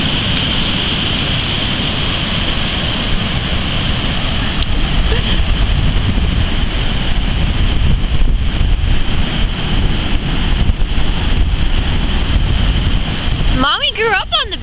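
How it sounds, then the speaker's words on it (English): Ocean surf at the beach near Morro Bay Rock, a constant loud wash of waves mixed with heavy wind buffeting the microphone, steady throughout with a brief high-pitched sound near the end. "it's the ocean."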